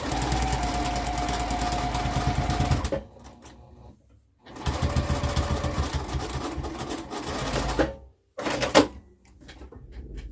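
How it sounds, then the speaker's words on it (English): A sewing machine topstitching through several fabric layers for a book sleeve, in close, loud runs of rapid rhythmic stitching. Two brief pauses break the runs, and the last burst is short. "And I'm just top stitching all of the layers down."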